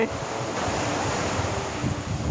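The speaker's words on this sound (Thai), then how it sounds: "เราให้ดูทะเลนิดหน่อยนะครับ" Sea waves wash onto a beach at Koh Samui, a continuous rushing surf mixed with heavy wind buffeting the microphone, loud and steady with no clear speech.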